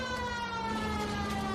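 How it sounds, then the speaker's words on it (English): A police car siren wails in the L.A. Noire video game, its steady rising and falling tone loud and continuous over a low engine rumble, with no talking. "Sirens are going on for this."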